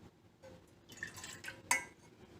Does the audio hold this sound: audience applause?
no